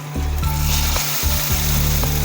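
Tempering seeds dropped into hot oil for an ivy gourd and red chilli chutney, a loud close sizzle and crackle that bursts up sharply and keeps frying steadily.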